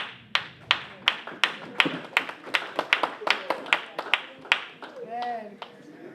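A small group at a family gathering claps in a loose, steady run of sharp hand claps for about five seconds, fairly close, with a faint voice near the end.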